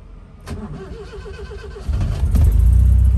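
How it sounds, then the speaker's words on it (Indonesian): A Toyota Corona RT78 engine cranks over after a short click and catches, settling into a steady, loud idle rumble that grows fuller toward the end. "Ini coba saya nyalain ya untuk mobilnya."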